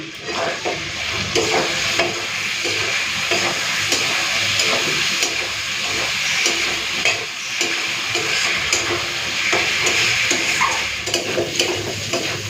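Potatoes fry in a pan with turmeric, salt, Kashmiri chili and sugar, a steady close sizzle broken by repeated scraping and stirring strokes of a utensil against the pan.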